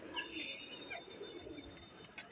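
A pigeon coos softly a few times, close by, over a quiet background with faint chirps.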